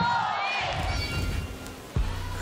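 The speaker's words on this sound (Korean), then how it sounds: "우리 윤보미 선수가 뜨거운 박수와 환호를 받으며 등장하고 있습니다." A crowd at a baseball stadium cheers and claps as a girl group member walks out for a ceremonial first pitch, with a loud roar of voices and clapping that fades and then surges again, plus a sharp knock near the end.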